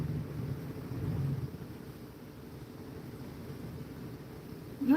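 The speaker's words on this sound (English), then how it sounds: "And that's rolling thunder." Rolling thunder rumbles low and distant, swelling in the first seconds and then fading to a dull background murmur, with a sharper brief noise at the very end.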